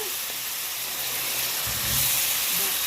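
Shrimp hitting a hot pan with butter and garlic, a loud, dense hiss of sizzling that swells slightly midway and carries on steadily, close and without talk.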